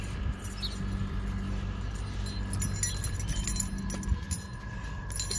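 Keys jangling close by in a hand, small metallic clinks and rattles scattered over several seconds over a low steady background hum, with no talking.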